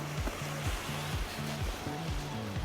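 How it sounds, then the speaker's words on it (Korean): Ocean waves wash along a quiet seaside on Jeju Island, a continuous broad surf hiss heard close, with a soft repeating musical tone underneath. "파도 소리 들으면서 숲길로 더 들어가 보도록 하겠습니다"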